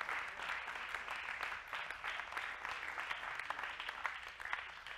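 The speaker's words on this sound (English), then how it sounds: "Give the Lord a good old hand clap of praise." A church congregation claps in praise at a worship service, a faint but steady patter of many hands that continues evenly throughout.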